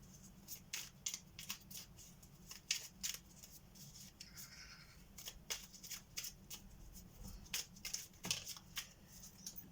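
Cards from a magic grimoire deck are shuffled and drawn, giving quick crisp riffles and flicks in irregular bursts, faint and close, with no voices.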